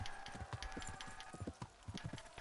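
Horse hooves clip-clop in the medieval video game Kingdom Come: Deliverance, a steady faint rhythmic trot of soft knocks throughout, quiet and alone.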